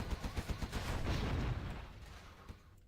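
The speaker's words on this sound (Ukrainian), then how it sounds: "Не туди в нього стріляє Гатлінг" A Gatling gun in the strategy game Generals Zero Hour fires a rapid rattling burst of close, loud shots that blur into a roar, then fades out after about two seconds.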